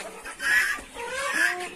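Hens clucking inside a coop, a few close, moderately loud bursts of clucks overlapping one another in quick succession over a short stretch.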